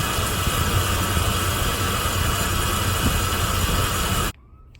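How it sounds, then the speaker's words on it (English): A Chevrolet 350 5.7 truck engine runs with a bad pulley bearing, giving a loud, steady, noisy whir and rumble heard close up that stops abruptly near the end. "This is the sound of a bad pulley bearing on a Chevy truck."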